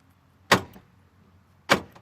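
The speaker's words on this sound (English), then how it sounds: "went back in 1970 and had the electric door locks installed on the car" Electric door locks on a 1969 Pontiac LeMans, installed in 1970, fire twice about a second apart, each a sharp close mechanical clunk with a short tail, alone in a quiet car.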